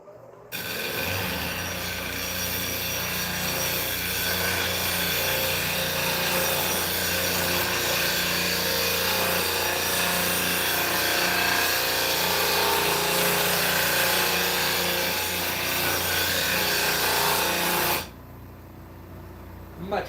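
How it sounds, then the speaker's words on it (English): A grinder shaping walnut crotch wood, a continuous loud abrasive rasp with a steady motor tone for most of the stretch, cutting off sharply near the end. "Now I do need to come over here to this grinder, and where I'm getting in here at this angle, I'm going to take this very bottom heel off here"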